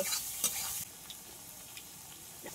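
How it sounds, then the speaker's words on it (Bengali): Tomatoes stirred into spices frying in oil for a katla fish kalia, with a brief scrape of stirring followed by a steady soft sizzle, close and alone. "মশলাগুলো তেল ছেড়ে দিয়েছে, এবার টমেটোটা দিয়ে দেবো। আবার একটু নাড়াচাড়া করব।"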